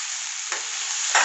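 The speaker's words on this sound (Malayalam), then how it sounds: "നല്ലോണം ഇളക്കി കൊടുക്കാം" A spoon turns a Kerala-style tapioca (kappa) stir-fry in a hot pan, a steady loud sizzle with a couple of scraping stirs breaking through, no voices.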